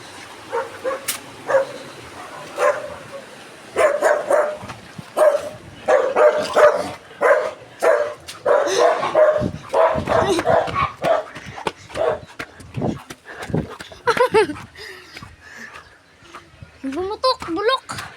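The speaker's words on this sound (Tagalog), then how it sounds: "Ito pumunta yung mga aso." Several dogs bark in repeated bursts, loud and fairly close, with some yips and whimpering, and people talk and shout between and over the barking.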